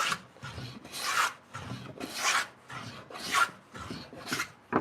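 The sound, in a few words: hand planer chunking pine end grain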